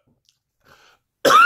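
A single short, harsh cough bursts out near the end after a faint breath and murmur, close and loud, from eating a reaper pepper.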